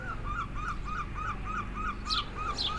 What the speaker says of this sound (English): He's a noisy bird.